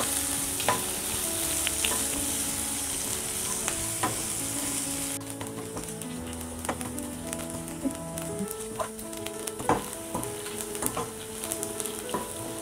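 Onions frying until golden brown for sambar, a busy crackling sizzle with scattered spoon taps that settles into a quieter fry partway through, heard close with no talking.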